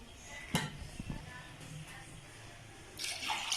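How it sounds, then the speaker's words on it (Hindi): Water poured from a glass into raw mutton liver with a spoon of vinegar in a kitchen bowl, a brief splash followed by a soft broader pour and trickle near the end, fairly quiet and close. "1 गिलास पानी डाल दिया मैंने।"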